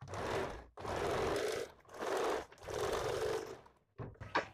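A sewing machine stitches a blouse armhole in bursts, its rapid whirring run starting and stopping four times with short pauses between, close and loud, followed by a few light handling knocks.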